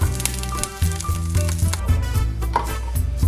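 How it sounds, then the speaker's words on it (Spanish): Half an onion and two garlic cloves sizzle in a little oil over medium-high heat, a steady close frying hiss under prominent background music. "prefiero sofreírlos en un poquito de aceite a fuego medio alto"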